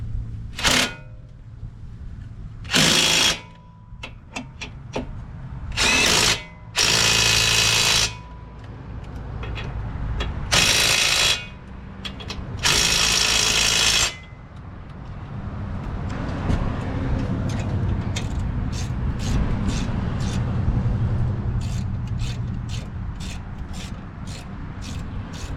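Power tool tightening strut bolts on a 2010 Toyota Prius during a strut replacement, heard as several loud, separate bursts of a few seconds each over a steady background rumble, followed by a quieter stretch of short repeated clicks.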